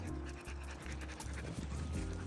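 A stray puppy pants in quick, rhythmic breaths close by in a park, with outdoor background noise around it and no speech.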